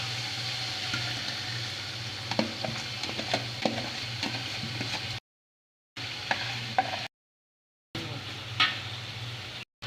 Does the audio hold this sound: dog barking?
no